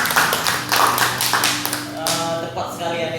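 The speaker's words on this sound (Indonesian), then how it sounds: "tepuk tangan untuk Nisa" Second-grade pupils clap for a classmate during a reading lesson in an Indonesian classroom, a scattered, uneven patter of small hands with a few louder taps, fairly close, with faint background chatter.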